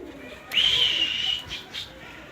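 Tumbler pigeons at a coop give one clear, sustained call followed by two shorter ones, fairly faint against a quiet outdoor background.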